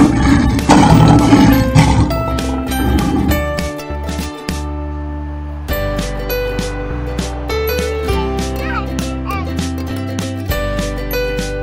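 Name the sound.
lion roaring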